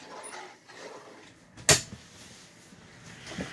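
A drawer in a teardrop camper opened or closed once, giving a single short, sharp knock near the middle against a quiet room background.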